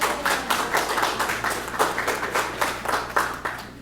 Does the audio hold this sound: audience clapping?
yes